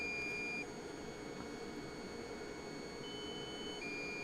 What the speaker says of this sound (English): So that's my low battery beep.